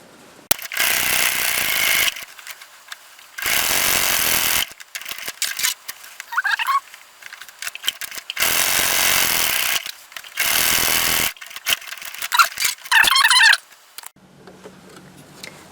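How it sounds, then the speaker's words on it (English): A sewing machine stitches down the sides of a quilted craft bag in loud, close bursts of rapid whirring, stopping and starting several times with brief pauses and small mechanical clicks between runs. "the next thing I want to do is sew down each side of this"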